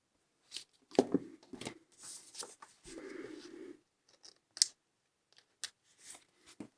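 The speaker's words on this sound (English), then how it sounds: "I'm going to cut this one in half now" Scissors cut a sheet of paper in half close up with several crisp snips and slicing strokes, then quieter rustles and taps of paper being handled.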